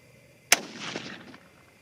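A single sharp .22-250 Remington rifle shot cracks out on a shooting range, followed by a short rolling echo that fades over about a second.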